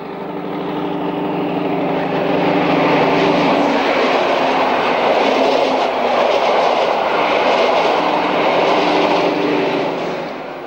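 A Reichsbahn VT 18.16 diesel express railcar of the Görlitz type runs past loudly, a deep engine drone giving way to a broad roaring rush of wheels and air that holds steady and close.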